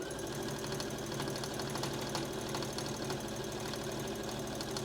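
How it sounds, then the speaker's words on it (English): A sewing machine runs an edge stitch along a fabric pocket, a steady rapid mechanical chatter and hum that stays constant and close throughout, with no voices. "we come in here and we do an edge stitch along there to hold it down"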